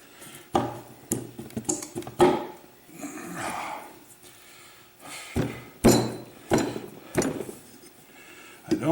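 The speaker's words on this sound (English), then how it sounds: "I don't like to bump these in with a hammer," A hammer taps piston rings onto Ingersoll Rand 242 pistons, giving a series of sharp, close metallic knocks in irregular clusters with quiet gaps between them.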